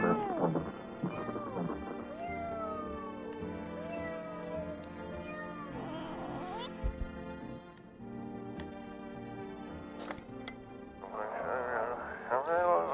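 Cat meowing in the video game No, I'm Not a Human: several drawn-out, wavering meows over steady background music, with someone talking and imitating the meows.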